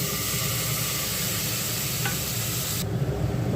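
Ginger paste frying in hot oil with dried red chili and cumin: a dense, continuous close sizzle with faint stirring, cutting off sharply near the end.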